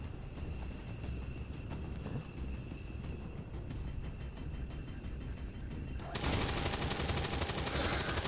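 Gunfire in XCOM 2 comes as a steady crackle of shots under background game ambience. Near the end it swells into a louder, denser burst of automatic fire.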